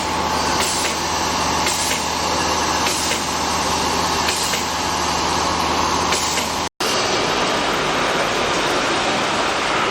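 A horizontal band saw, model MJ400, runs its blade with a continuous mechanical whir and hum, steady and close. A short cut in the sound comes near the end, then the same running noise resumes.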